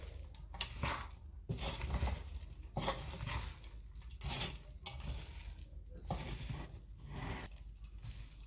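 Boondi laddu mixture being mixed by hand in a vessel, rhythmic squelching and rustling pushes repeating roughly every second, close and fairly quiet, with no talking.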